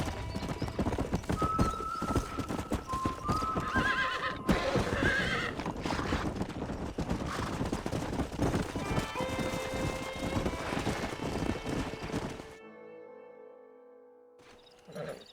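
Horses in the Red Dead Redemption video game whinny and snort over a steady clip-clop of hooves, loud and close for most of the stretch before the sound drops out near the end, with faint game voices and wind behind.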